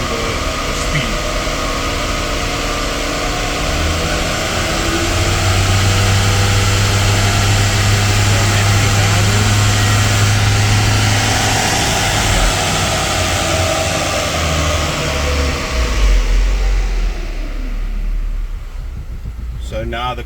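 An Opel Corsa engine revs steadily on a dynamometer in fourth gear, climbing toward about 3000 RPM with a loud, sustained drone that holds and then shifts near the end.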